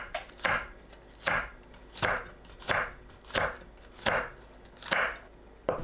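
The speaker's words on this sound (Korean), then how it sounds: "홍고추를 어슷 썰어줍니다" A knife slices red chili peppers diagonally on a cutting board, making seven or eight evenly spaced, firm chopping knocks in a steady slow rhythm, close and clear with no talk.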